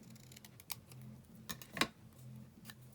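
Scissors trim a strip of paper to make a small edge tab, giving a few crisp snips, one sharper than the rest, over a quiet low room hum with no talking.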